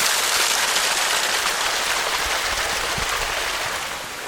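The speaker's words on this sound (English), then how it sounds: "Yeah, it's really raining." Heavy rain pours steadily during a backpacking climb in the Great Smoky Mountains, a dense, constant hiss that fills the whole clip with no talk.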